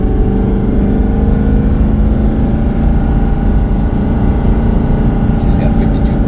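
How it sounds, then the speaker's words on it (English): Exhaust brake on a 2023 Ford F450 towing 30,000 lbs downhill, a loud, steady low drone from the diesel engine with rising tonal whine, continuous and close throughout. "I'm going to tap the brake here so we can get some exhaust braking going on."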